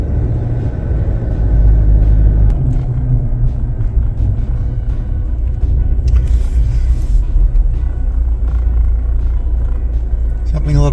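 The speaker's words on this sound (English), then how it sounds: "I'm at a dead standstill while I'm just idling along now." A vehicle engine idles at a dead standstill, a steady low rumble that holds close and even throughout, with faint higher rattles now and then.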